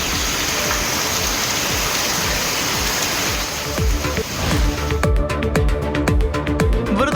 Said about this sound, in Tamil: இடி, மின்னல் மற்றும் காற்றுடன் கூடிய பலத்த மழை பெய்தது